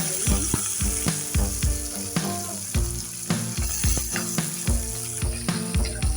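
Curry leaves crackle and sizzle in hot oil with mustard seeds and garlic, a steady frying hiss broken by repeated sharp pops and stirring clatter close by.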